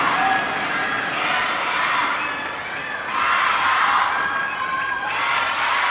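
Crowd cheering and applauding at a table tennis match between Ding Ning and Mima Ito, a broad roar that swells, dips, then rises again, loud and continuous throughout.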